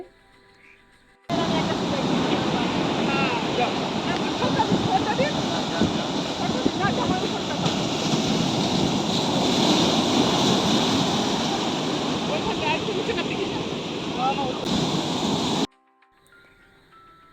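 Sea waves crashing and foaming against black boulders on the shore at Shankarpur beach near Digha, a loud continuous roar of surf with wind buffeting the microphone, cutting off abruptly at both ends.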